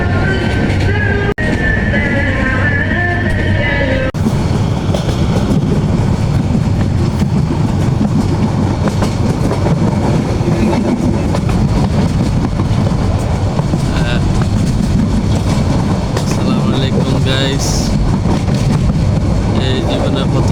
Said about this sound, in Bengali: এই জীবনে প্রথম ঢাকা থেকে লাকসাম অতিক্রম করে ট্রেনে যাচ্ছি।